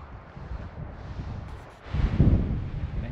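Wind buffeting the microphone at a Grand Canyon viewpoint in Arizona, a close, rumbling roar that swells and gusts louder partway through, with no speech.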